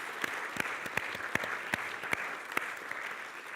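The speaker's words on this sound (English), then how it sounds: "Randy Bischoff, who deserves another round of applause" An audience at a Confirmation and Shavuot service gives the senior educator a round of applause, a moderate, fairly distant patter of clapping with a few sharper individual claps standing out.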